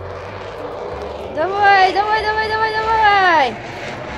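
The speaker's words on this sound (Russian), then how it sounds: "У меня же самолет!" Toy airplane engine effect, a rising whine and drone that starts mid-clip, holds for about two seconds, then drops away, with a voice shouting over it.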